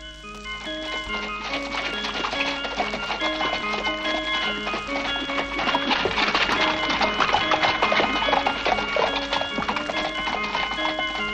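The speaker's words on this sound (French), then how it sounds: "La fée fouetta les chevaux et le carrosse partit." Steady clip-clopping hooves of a horse-drawn carriage under a bright, tinkling musical backdrop that grows fuller midway.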